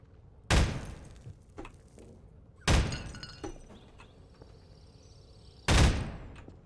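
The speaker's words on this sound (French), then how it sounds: "Je tire dans des trucs." Three loud, sharp gunshots from the video game Prop Hunt, spaced a few seconds apart, each with a short ringing tail and faint softer clicks in between.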